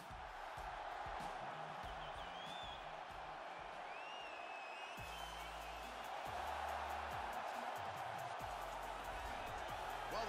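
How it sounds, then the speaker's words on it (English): An arena crowd in the fighting video game UFC 3 roars and cheers steadily as a bantamweight fighter walks to the octagon, with announcer voices talking over the noise. "the crowd pops as this guy makes the walk to the octagon"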